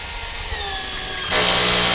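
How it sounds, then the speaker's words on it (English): A power drill bores out a hole during construction work, a sudden loud whining grind that starts abruptly and continues steadily after a moment of quieter motor hum. "So let's drill this out"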